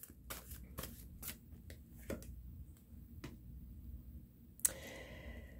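A tarot deck is shuffled by hand, giving soft, quiet riffling bursts at an irregular rhythm, ending in a sharper snap and a brief flutter of cards.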